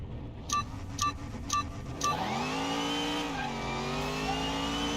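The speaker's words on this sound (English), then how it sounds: "Sounds like it's got a turbo on it." Turbocharged Honda Civic inline-four engine in Car Mechanic Simulator 2021, a few short clicks followed by a steady rising rev that holds a sustained drone, close and moderately loud, with no talk.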